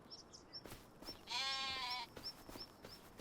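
A sheep in the farming video game Farming Simulator 25 gives one clear, wavering bleat lasting under a second, close and moderately loud, with quiet ambient clicks and chirps around it.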